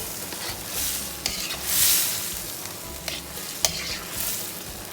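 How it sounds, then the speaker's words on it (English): Chicken and shrimp pad thai being stirred and tossed in a hot frying pan, with a steady sizzle and repeated scraping and clattering of the utensil against the pan, close up with no talking. "And now I mix everything together."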